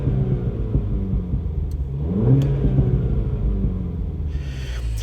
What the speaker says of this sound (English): Inside, I'll give it a quick rev so you guys sort of get an idea of what you hear inside.